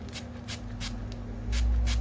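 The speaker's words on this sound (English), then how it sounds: "I'm going to be wetting it with my Essence You Better Work setting spray" Essence You Better Work setting spray is misted onto a makeup brush in about five short, soft hissing bursts at a steady rhythm, close by and alone.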